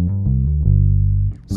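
Gospel-style bass guitar lick played alone, a run of low notes that slides slowly down onto the root and sustains before a brief pause and a short final pluck.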